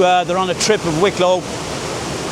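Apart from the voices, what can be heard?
waterfall in full flow after heavy rain, Wicklow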